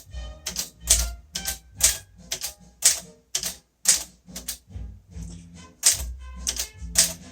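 Keys strike on a 1947 Royal Quiet Deluxe typewriter, crisp mechanical clacks in an uneven rhythm, about a dozen heavy strokes with sharp metallic bites, close and clear, no talk.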